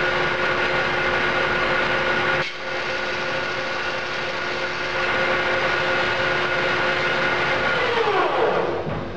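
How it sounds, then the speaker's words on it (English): A wheel lathe steadily machines the lip of a broken wheel under repair, a continuous loud whirring cut with tonal ringing that briefly dips partway through and bends downward as the pass ends. "Let's move on to the wheel lathe."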